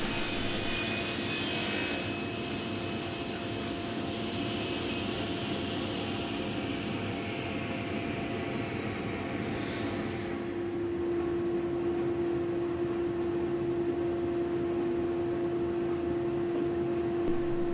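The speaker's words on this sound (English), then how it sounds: "Then over at the bandsaw I will cut these in half." A bandsaw resaws formply drawer stock in half, its steady loud broadband whine running continuously throughout, with a sustained hum and the blade's rising pitch near the middle of the cut.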